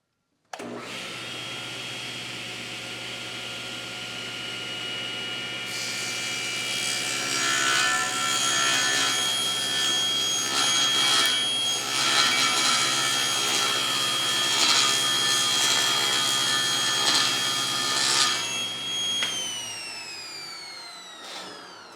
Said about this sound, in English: we can go ahead and make a cut with our table saw